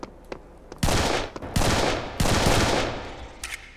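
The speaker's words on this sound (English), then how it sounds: "Shotgun." Shotgun blasts in the video game Serious Sam: three loud, booming shots spaced about a second apart, each with a long rolling tail, preceded by a few faint clicks.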